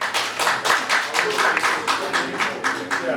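Congress delegates clapping at an extraordinary union congress meeting, a dense, steady burst of many hands with rhythmic swells, moderately close and filling the room.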